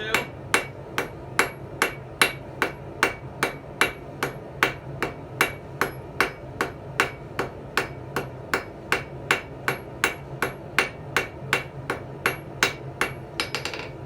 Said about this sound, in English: make sure to flip every hammer blow or every 2.